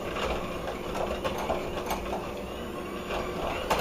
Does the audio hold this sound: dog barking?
no